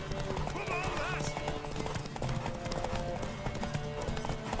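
Horse hooves clip-clop in The Witcher 3: Wild Hunt, a steady rhythmic trot under shouted voices and busy game ambience, with a brief whinny early on.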